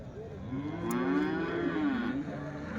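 A young calf at a cattle market lets out one long, drawn-out moo close by, rising and falling in pitch against quiet surroundings.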